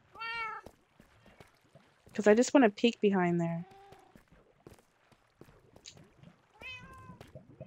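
A cat in a video game gives a loud, drawn-out meow in the middle, with soft footsteps nearby while someone talks before and after.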